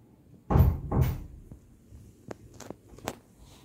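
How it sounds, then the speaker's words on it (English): A door swings shut with a dull thump and a second knock, followed by faint rattles and light clicks as it settles. The sound is close and there is no talk. "Close the door."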